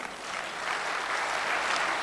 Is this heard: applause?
yes